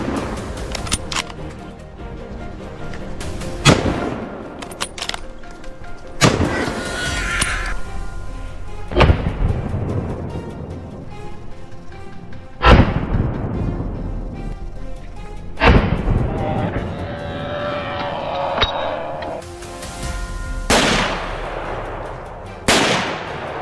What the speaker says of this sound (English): Gunfire echoed through the air, protecting the livelihood of the people.